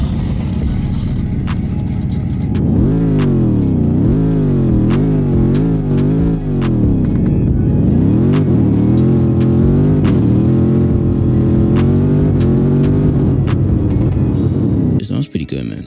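A Saleen S7 supercar starting up in Southwest Florida, its engine barking through loud throttle blips and rising, falling revs before settling into a rumbling idle, close and strong, with a brief voice near the end.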